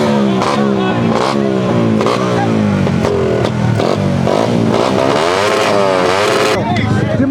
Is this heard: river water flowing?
no